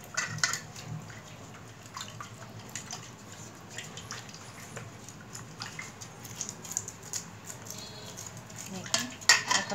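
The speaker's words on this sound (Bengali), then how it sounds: "দেখুন, এখন বটির কোনো কাজ নেই, আগে আঁশ ছাড়িয়ে নিচ্ছে, তারপর কাটবে।" Hilsa fish being scaled by hand in a kitchen, giving a stream of soft scraping and clinking strokes with wet, watery handling sounds, moderately close and fairly quiet throughout.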